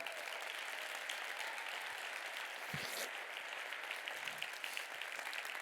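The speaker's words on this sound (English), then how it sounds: "would you give that statement a round of applause right now?" An audience applauds at a talk, a dense steady patter of many hands clapping throughout, moderately distant and without pause.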